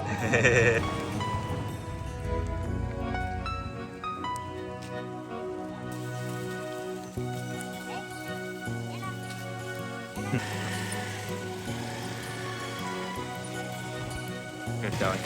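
Goats bleat repeatedly amid a busy outdoor scene in Ninh Binh, Vietnam, with people talking nearby and a steady background clamor.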